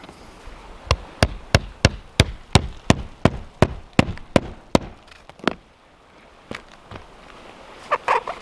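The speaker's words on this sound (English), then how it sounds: "Once it's in place, we'll just nail it there." A hammer nails a ridge cap shingle onto a roof: about a dozen sharp, evenly spaced blows in quick rhythm, then a few slower taps, close and loud with no speech.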